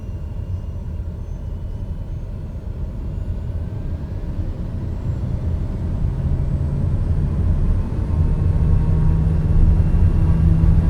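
A simulated aircraft engine in Microsoft Flight Simulator, rolling along a runway near the Grand Canyon at sunrise, makes a steady low droning rumble that builds slightly in loudness, with a faint hum joining midway.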